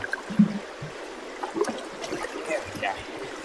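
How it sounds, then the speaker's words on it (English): Creek water trickles and gurgles softly as a bucket is dipped and filled outdoors, with a few small splashes and sloshes in a quiet, close setting. "I'm gonna fill up my bucket with water."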